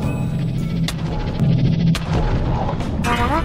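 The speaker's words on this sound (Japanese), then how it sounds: "今の爆発で潜水艦にひびが入っちゃった。" An explosion cracking a submarine in Minecraft: a few sharp booms and bursts, loud and close, stacked over a busy layer of game sounds with no talking.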